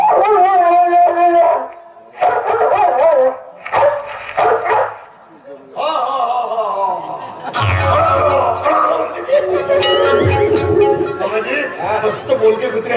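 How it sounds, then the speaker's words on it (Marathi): Village dogs howl in long, wavering, rising cries, broken by a few barks and yips. Several loud, nearby bursts follow one another, with short gaps and overlapping voices. "मस्त बोलते कुत्रे आहेत तुमच्या गावचे"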